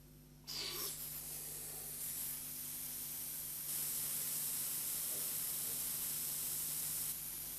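Air hisses steadily through the nebulizer nozzle of a Sherwood Model 410 flame photometer, a constant close spray-like rush that starts abruptly and grows slightly louder partway through, with a faint hum underneath.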